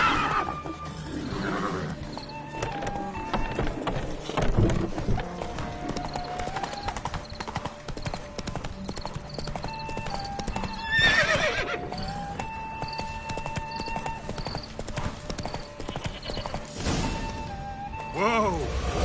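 Roach, Geralt's horse in The Witcher video game, gallops in a race with steady clip-clop hoofbeats and several loud neighs and whinnies, mixed with other game sounds throughout.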